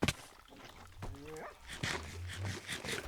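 A dog whimpers and whines in a video game, a few rising, high-pitched cries with short yelps and thumps around them, fairly close, with no speech.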